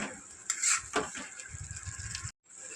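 A spoon scrapes and stirs dried red chilli paste frying in oil in a pan for aloo dum, soft sizzling under sharp metallic clinks and scrapes over a few seconds, with a brief silent gap near the end.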